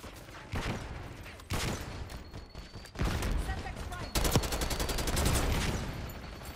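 Heavy gunfire and explosions from Call of Duty Black Ops 6 multiplayer erupt in rapid bursts and sharp blasts, with a player talking over the loud, chaotic fighting.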